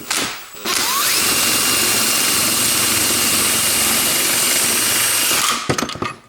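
An SUV or truck car jack being lowered, probably driven by a power tool, whirs in a loud, steady high-pitched drone for several seconds, then stops with a few rattling clicks.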